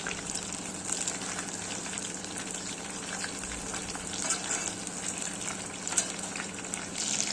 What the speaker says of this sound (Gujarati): જો આ રીતે આપણે મીડિયમ આંચ રાખી બધાય આપણે સોયાવડી તળી લેશું